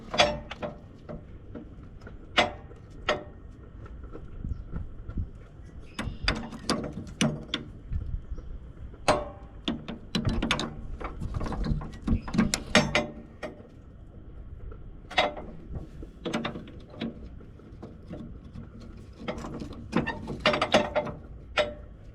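Metal springs being hooked back onto a White 6180 planter, giving scattered clanks, ratcheting clicks and sharp metallic taps at irregular intervals, close by, with no talking.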